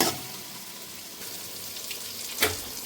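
Tomatoes and onions frying in oil with turmeric, a faint low sizzle with soft stirring and a brief clatter near the end, heard without talk.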